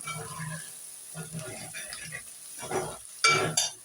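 Turmeric and cumin powder sizzle in a frying pan in short, close bursts, with stirring scrapes between them and louder crackles near the end.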